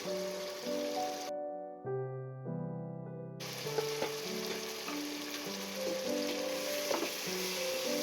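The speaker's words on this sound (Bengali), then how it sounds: "এখন মশলাগুলো ভালো করে কষিয়ে নিব।" Ground cumin, garam masala, meat masala and coriander powder fry in a pan for chicken gravy, a low steady sizzle under a sustained musical tone that briefly drops out and returns, with a few faint clinks of stirring.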